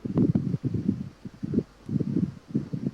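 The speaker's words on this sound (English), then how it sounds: "It is a bit windy right now." Gusty wind buffeting the microphone in low, rumbling bursts that rise and fall, close and fairly loud, with no talking.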